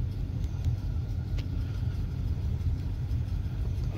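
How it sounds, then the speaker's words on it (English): A supercharged 5.0 Roush Mustang with a 10-speed races a cammed Ram 1500 pickup, heard as a steady, loud, deep engine rumble throughout with no voices. "So next, this is the race against the Roush Mustang."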